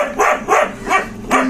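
A dog barks four times in quick succession, loud and close, with short yelping bursts evenly spaced over a second and a half.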